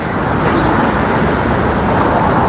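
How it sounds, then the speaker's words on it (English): Steady, dense traffic rumble from cars on a windy street in Ukraine, with wind noise underneath and no clear voices standing out. "I am in the street, so you will hear noise"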